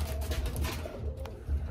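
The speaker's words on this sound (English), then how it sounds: "I got plenty of birds in here." Young pigeons coo in a loft, with several low, throaty coos close by over a soft background rustle and a few brief wing or foot sounds, and no talk.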